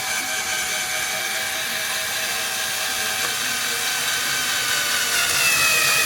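A drill bit bores into a vintage plate, a steady high-pitched grinding whine with ringing tones that holds continuously and grows slightly louder near the end, with no talk.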